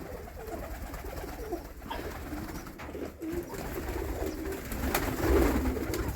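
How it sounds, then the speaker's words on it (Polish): Healthy pigeons coo steadily in a loft, overlapping low rolling calls near and moderately loud, mixed with some rustling and background noise, with no talking. "gołąbki są w dobrym zdrowiu"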